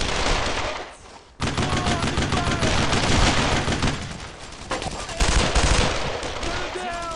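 Dense, continuous gunfire from World War II-era weapons in the game Brothers in Arms, rapid automatic bursts and single shots overlapping loudly for several seconds, with shouting soldiers mixed in.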